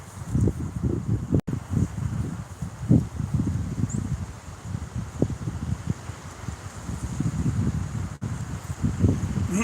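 Wind gusting outdoors at roughly 20 mph, a steady low roar buffeting the microphone in uneven surges with brief rustling bursts, continuous and fairly loud throughout.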